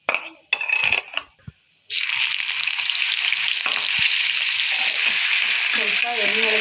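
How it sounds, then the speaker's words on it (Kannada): Cut potato pieces drop into hot oil in a pan for sabudana khichdi. A few clinks and rustles come first, then a loud, steady sizzle of frying starts and carries on close by to the end. "ಸ್ವಲ್ಪ ಎಣ್ಣೆಯೊಳಗೆ ಫ್ರೈ ಆಗೋವರೆಗೂ ಇದನ್ನು ಹುರ್ಕೋಬೇಕು"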